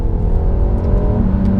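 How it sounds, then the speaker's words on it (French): Peugeot 308 GTi in sport mode with its exhaust note artificially amplified through the cabin speakers, a steady low engine drone and hum heard from inside the car, continuous and fairly loud with no talking. "c'est dû en fait à une sorte d'amplification artificielle de l'échappement à l'intérieur via les enceintes"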